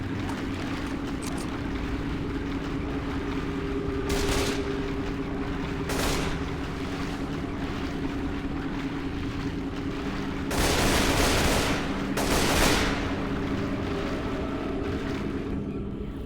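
Gunfire in the zombie shooter Left 4 Dead 2, where a few bursts crack out against a steady droning background, with two louder, longer volleys near the end. Nobody speaks.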